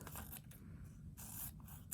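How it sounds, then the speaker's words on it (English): Scissors cut through paper in a classroom craft lesson, a few quick close snips and scrapes in short bursts with brief pauses between them and no talking. "I'm going to cut along the long line."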